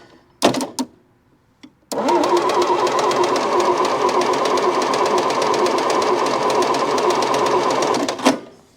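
A Massey Ferguson MF711 skid loader engine is cranked over with a suspected bad fuel pump, giving a few short clicks, then a steady rhythmic chugging churn of the starter lasting about six seconds before stopping abruptly.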